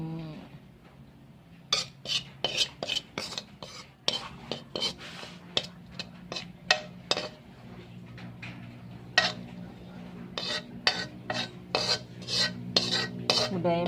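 A spoon scoops spicy Isan fermented fish dip (jaew pla daek song khrueang) onto a plate, making a run of close, irregular clinks and scrapes against the dish over a low background hum.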